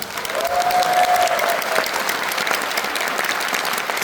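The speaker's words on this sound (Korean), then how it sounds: "박수 한 번만 부탁드립니다" Steady applause from a crowd in a cinema hall at a film talk event fills the whole stretch, dense and continuous at an even loudness.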